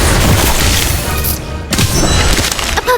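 An Expulso spell blasts in Harry Potter: Magic Awakened, a loud booming explosion with splintering crashes, followed by another heavy impact burst.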